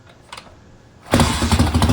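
A Triumph Bonneville motorcycle engine is kick-started, with a few faint mechanical clicks before it suddenly fires and settles into a loud, close, steady idle.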